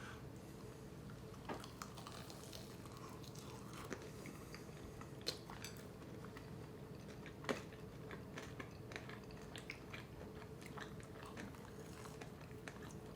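Deep fried Warheads sour candy being bitten and chewed up close, soft squishy bites with occasional crisp crunches spread across a quiet background, no talking.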